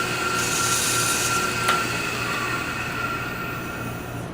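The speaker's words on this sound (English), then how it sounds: "If I'm going to sand the inside, I need to do that now" A wooden ring box spins on a woodturning lathe while its inside is sanded, giving a steady, close rubbing hiss over the motor hum with no talking.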